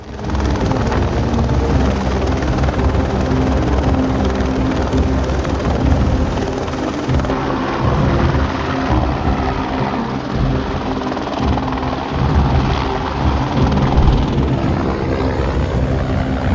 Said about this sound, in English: This helicopter pilot expertly flew sideways under the Los Angeles River bridges like he was working for a Michael Bay movie.